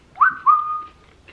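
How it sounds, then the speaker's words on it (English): A person whistles a short two-part tune, a rising note followed by a long held tone, clear and close with no talking. "Can you whistle?"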